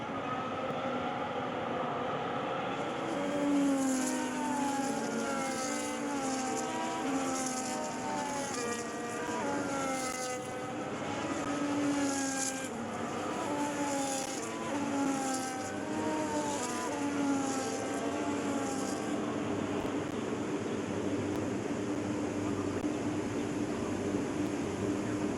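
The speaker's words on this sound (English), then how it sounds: "As the cars make their way back to the starting grid to form up and get ready for lights out" F1 race cars roll to the starting grid at the China Grand Prix in a racing video game, a steady layered engine drone with rising and falling revs that carries on continuously, mid-distance and moderately loud.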